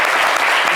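Studio audience applause on a French television talk show, a dense, steady wash of clapping that stays loud and close throughout the short burst.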